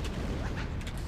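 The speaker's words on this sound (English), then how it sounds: "That was an amazing explosion." An explosion in the Halo video game rolls out as a heavy, sustained low boom with rumbling debris, filling the short moment at steady loudness.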